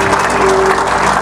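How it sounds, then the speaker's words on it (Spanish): Church congregation applauding during a Spanish-language Christian service, a short burst of dense, steady clapping filling the room at fairly loud level with a faint sustained tone underneath. "Aplausos a Dios, hermano."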